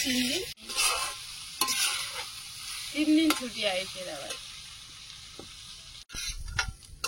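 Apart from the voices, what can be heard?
bitter gourd and potatoes frying in a pan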